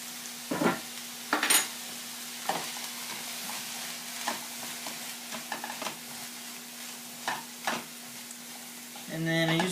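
Lots of garlic frying on high heat in a pan, a steady sizzle with a faint hum underneath, broken by several stirring scrapes and clinks of a utensil against the pan, close by.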